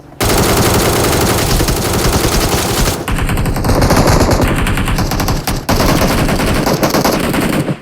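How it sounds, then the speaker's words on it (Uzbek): Machine gun fire in the video game PUBG: loud, sustained automatic bursts fill nearly the whole stretch, with a brief break partway through and no talk. "Qayerda bo'lyapti otishma?"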